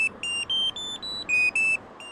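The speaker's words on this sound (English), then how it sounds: "Mossad also tested these ringtones to find a sound urgent enough" A series of high electronic pager ringtone beeps in short bursts, about eight tones stepping slightly in pitch, fairly loud with brief gaps between them.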